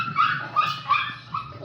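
A frightened dog barks and whimpers in a short run of yips and whines, close and fairly loud, during a drinking session.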